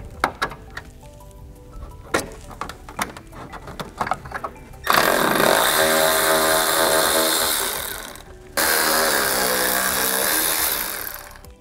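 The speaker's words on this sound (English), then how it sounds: "grab a 10 millimeter socket and take these two bolts off" A 10 mm socket wrench removes bolts from a car grille during a headlight retrofit: quick close ratcheting clicks, then a loud sustained whirring roar that breaks off briefly and resumes.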